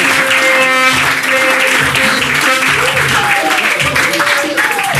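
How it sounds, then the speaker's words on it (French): Studio audience applause on a French television show, a lively burst of clapping running the whole time with a presenter's voice and music-like tones mixed in over it. "On l'applaudit très fort."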